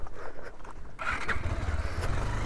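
Motorcycle riding over a rough, stony road, its engine rumbling low and uneven with rattles and bumps, close and steady after a quieter opening second.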